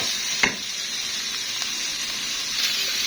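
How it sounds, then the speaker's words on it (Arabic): Alexandrian-style sliced liver sizzling and hissing steadily in a hot pan, with a bright continuous fry broken by a few soft scrapes and stirs, close and with no talk. "شوحناها تشويحه حلوه زي ما انتم شايفين كده"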